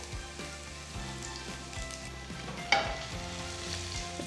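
Finely chopped garlic sautéing in oil with bay leaf, green cardamom and cloves, a steady close sizzle with occasional soft stirring taps and one sharper clink, without talk.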